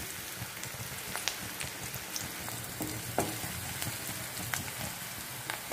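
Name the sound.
onion frying in oil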